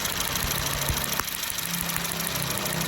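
A Honda City car engine with a misfire runs at a close, steady idle with a rough, knocking pulse and a faint single tick partway through.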